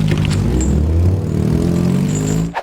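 Honda and Toyota car engines straining during a pull-off challenge, a loud steady rumbling roar with clattering for a couple of seconds before cutting off abruptly.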